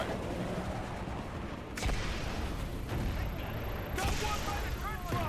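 Gunfire from a strafing run rattles through a Call of Duty Black Ops battle scene, with sharp bursts around two and four seconds over a continuous rumbling combat din, voices calling out between them.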